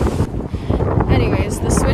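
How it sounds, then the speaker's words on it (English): Wind buffeting a microphone outdoors, loud rumbling gusts that roar and ease over under two seconds, with a voice speaking through the noise. "It's so windy."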